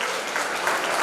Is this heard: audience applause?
yes